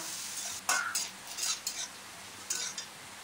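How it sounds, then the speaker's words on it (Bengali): Chopped onions sizzle softly in a wok over medium-low flame while a utensil scrapes and clinks against the metal in short irregular strokes. "পেঁয়াজ কিন্তু খুব বেশি লাল করে ভাজবো না।"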